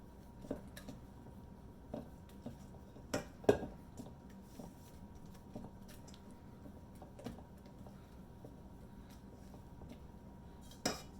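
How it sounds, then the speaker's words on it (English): A utensil stirs mashed bananas into chocolate banana bread batter, with quiet, scattered clinks and taps against the bowl at irregular intervals over a soft, wet background. "I'm gonna add in my mashed bananas first. stir it in."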